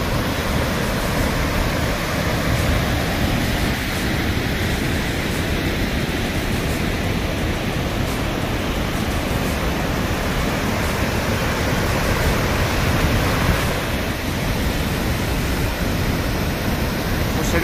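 Roar of the Toce waterfall heard from right beneath it, a loud, steady broadband rush of falling water that fills the whole clip without pause and with no talk.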